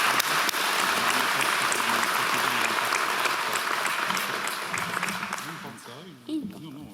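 An audience at a law faculty's formal opening ceremony claps in sustained, dense applause that gradually thins out, and a voice speaks over the final seconds.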